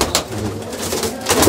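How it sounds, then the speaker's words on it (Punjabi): A racing pigeon coos in a short, close burst, a low throaty call rising and falling under a faint background hum. "ਇਹ ਕਬੂਤਰ ਉੱਥੋਂ ਆਇਆ ਸੀਗਾ ਜੀ"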